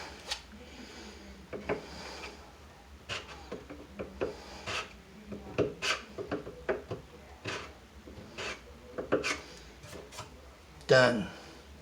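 A hand scraper shaves topcoat from the inner edges of a wooden cabinet face frame in repeated short, dry rasping strokes. A person talks quietly over the scraping.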